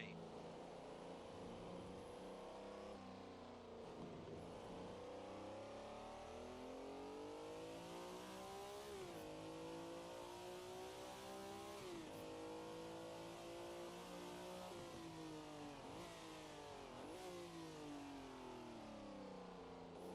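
A Ferrari 330 P4 with its V12 engine, driven in the Assetto Corsa racing game, revs hard and continuously through the gears, the pitch climbing and dropping with each shift, loud, close and without talk.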